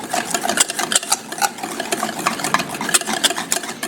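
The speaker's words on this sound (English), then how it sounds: "you take your tiny whisk, and you tiny whisk that up" A small whisk stirs ketchup-heavy meatloaf sauce in a bowl, giving a steady run of quick, close scraping and clicking strokes with busy, irregular rhythm and no talking.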